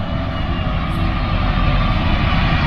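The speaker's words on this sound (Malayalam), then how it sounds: "നല്ല സൗണ്ട് വോൾവോൻ്റെ" A Volvo 9600 13.5 m coach's engine drones steadily while the vehicle drives, a loud, close, low rumble with broadband road and air noise and no voices.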